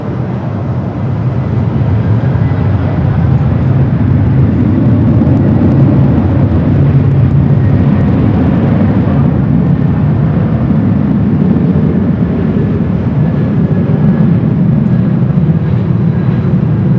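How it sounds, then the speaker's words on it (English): A Delta Airbus A350 in Team USA livery, arriving from Paris, comes in to land on the north side at LAX with a loud, steady broadband jet roar that holds for the whole stretch, with no talking. "Delta A350 Team USA Delta 2640, guys. coming in from Paris, number 2 for arrival here on the north"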